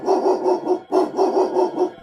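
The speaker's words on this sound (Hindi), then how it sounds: "गली के सारे कुत्ते रोने लगते हैं।" A cartoon sound effect of street dogs howling at night: loud, close, wailing cries repeating in a steady rhythm of about eight pulses with a short break midway.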